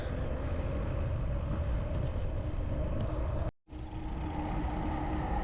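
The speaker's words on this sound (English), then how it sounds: "Dart train." Steady low rumble of a passing DART commuter train, constant and fairly loud, broken by a brief abrupt dropout before the rumble resumes.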